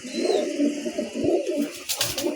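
A pair of black Gola pigeons, a male and a female, cooing softly and continuously at close range, with low rolling coos and a brief rustle near the end.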